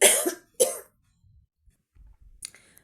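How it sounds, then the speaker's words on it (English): A person with a flu or cold gives two sharp, loud coughs close together at the start, followed by faint throat noises and a brief raspy breath near the end. "Sorry, I've been coughing."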